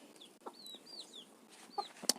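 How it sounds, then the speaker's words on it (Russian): Guinea fowl and chickens clucking and chirping in short bursts, with a sharp squawk near the end, fairly close in a quiet village yard. "Вот эти вот белые курицы, это у нас цесарки."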